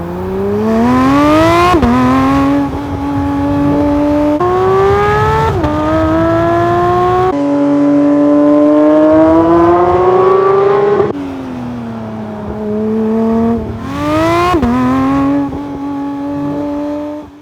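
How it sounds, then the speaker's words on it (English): A 2021 Porsche 911 GT3 engine screams up and down repeatedly, loud and close, with sharp gear-change dips between long rising pulls. "have an extended listen to the 911 GT3 exhaust sound"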